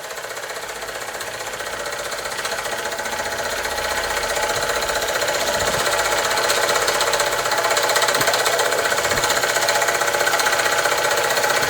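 A gas-fired British overtype model steam engine running, a fast steady mechanical clatter and knocking that swells slightly louder over the clip, heard alone up close.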